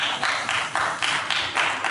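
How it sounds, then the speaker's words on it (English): Hard, steady clapping by Paula White, a run of sharp hand claps repeating at a quick, even rhythm with no talk over it. "Wow, Paula White is clapping really hard."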